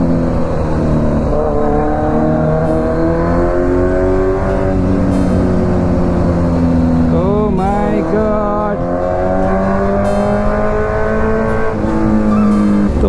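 Kawasaki Z900 motorcycle exhaust rumbles loudly and up close in traffic, rising and falling as it revs through gears, with a sharp throttle blip midway.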